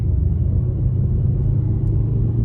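Low, steady engine rumble inside a Ford Super Duty Tremor with the 7.3 Godzilla V8 pulling away in first gear while towing, a constant deep drone with no talk.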